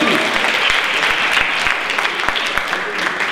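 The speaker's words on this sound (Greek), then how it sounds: "Να το χειροκρότημα, Ιλιάνας Παναγιώτη." A crowd at an outdoor singing contest in Agios Nikolaos claps loudly and steadily, with scattered sharp individual claps and faint voices underneath.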